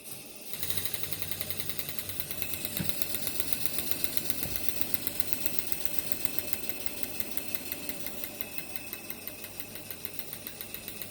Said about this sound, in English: Let's start with the small steam water pump.